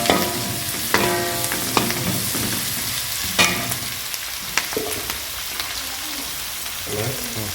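Ginger and curry leaves sizzle in hot oil in a frying pan, a steady crackling fry punctuated by sharp pops and spits, with occasional stirring scrapes close by.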